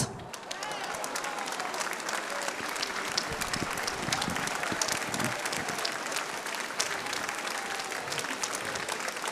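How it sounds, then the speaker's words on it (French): An audience at the Hestiv'Òc 2014 festival gives a long, loud round of applause to welcome a performer, sustained dense clapping for several seconds with some voices and cheers underneath. "Je vous remercie d'accueillir et d'applaudir très fort Christophe Andelat"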